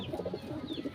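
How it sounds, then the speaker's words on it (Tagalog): A hen clucks softly in a short burst of low, rapid clucks, close by and faint, over a quiet background. "Hen."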